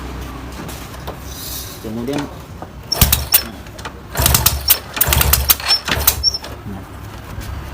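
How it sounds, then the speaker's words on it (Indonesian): A motorcycle with weakened engine compression is kicked over several times, each stroke bringing a rough, loud turning-over burst close by, while someone talks between the attempts. "baru kalian lanjut dengan mengengkol"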